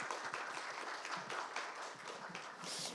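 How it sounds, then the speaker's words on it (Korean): Applause from a seated audience thanking a lecturer after a ninety-minute talk, a steady wash of clapping that holds fairly even throughout at moderate, slightly distant loudness with no voices over it. "다시 한번 감사의 박수"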